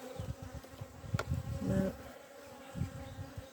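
Bees buzz steadily close by beside a beehive in an Irish apiary, a continuous insect drone with one brief louder swell partway through and no talking.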